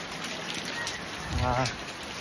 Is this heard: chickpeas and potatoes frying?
no